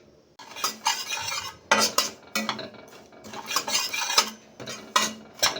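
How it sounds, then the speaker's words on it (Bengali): Dry semolina is stirred in an empty wok with no oil or ghee, producing repeated scraping and clinking strokes of a utensil against the pan in irregular bursts, close and moderately quiet, with no talk. "শুকনো কড়াই আগে সুজিটা একটু নেড়ে নেব।"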